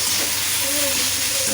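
Tomatoes fry in a pan for a Bengali fish curry with potato and eggplant, making a loud, steady hiss of sizzling steam close by, with a faint tone drifting over it.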